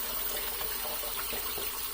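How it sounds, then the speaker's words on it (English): Yaqi TFC Brass and Yaqi Ultima razors are rinsed under a running tap, a continuous close gush of water splashing steadily with no pauses or speech. "let's rinse them off really well"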